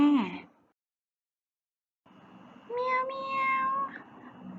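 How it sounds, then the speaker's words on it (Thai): A kitten calling for its mother meows a few times, a short cry then a longer wavering mew after a brief silence, close and clear. "เสียงลูกแมวร้องหาแม่"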